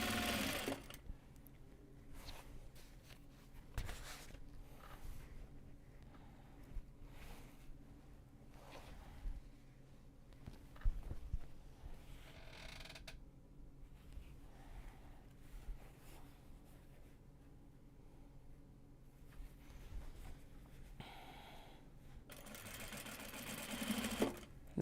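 A sewing machine stitches Japanese fabric project bags in bursts of steady mechanical whirring, starting and stopping repeatedly with short pauses between runs, close and fairly quiet with no talk.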